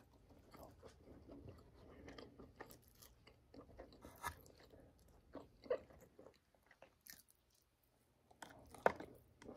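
Someone chews a crumbly muffin close to the mic, with irregular crunchy bites and soft mouth sounds spread over several seconds, one louder crunch near the end.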